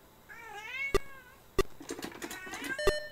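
Several kittens mew in high, rising and falling cries that overlap, fairly close, with sharp clicks in between and a spell of quieter mewing near the end.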